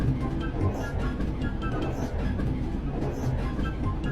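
A passenger train runs steadily with a continuous rumble and faint rhythmic clatter, loud and unbroken for several seconds, as a railway background effect.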